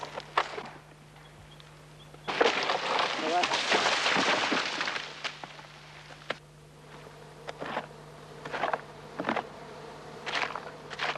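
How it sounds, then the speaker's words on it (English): Small stingless native bees buzzing at their nest inside a tree trunk in the Australian bush, a dense droning hum that swells and fades with sharp knocks and rustles close by, under outdoor noise. "There's a treat in the trunk of this tree, a native bee's nest."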